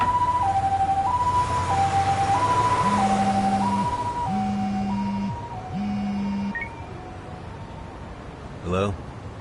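An ambulance siren in the Lost Judgment game, loud and close, wailing in a steady two-tone cycle over traffic noise with a lower horn-like tone pulsing beneath, then fading; voices talk over it.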